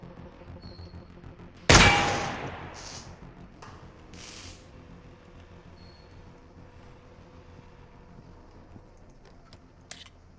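A single sharp gunshot in the firearm game Receiver 2 cracks loudly and decays with a short ringing tail. Faint clicks and a small second click follow much later over quiet background.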